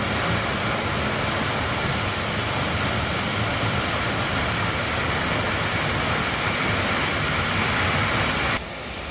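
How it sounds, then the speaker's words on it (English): Waterfall roaring from inside a cave behind the falling water in Oregon, a dense, steady rush filling the space at close range, unbroken and loud until it drops slightly at the very end. "We're in the cave back behind the waterfall."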